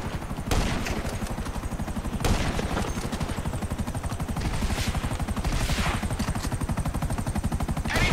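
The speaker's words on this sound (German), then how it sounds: "Oh wow, was sind das? Drei Helikopter." Rapid rotor thumping from three helicopters under bursts of gunfire in Grand Theft Auto V, busy and continuous with occasional louder blasts.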